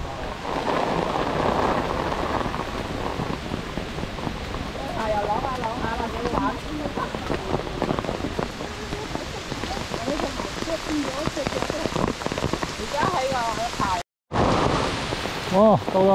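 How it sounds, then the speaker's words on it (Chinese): Heavy rain falls steadily on the road at the Aberdeen Upper Reservoir in Hong Kong, a dense, loud wash with a brief dropout near the end, while someone talks over it at times. "好大雨啊！"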